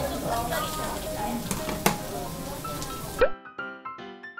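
Green onions grill in lamb fat with a steady close sizzle and occasional clicks of tongs or utensils. Voices murmur underneath, and the sound cuts out abruptly into a musical tone near the end.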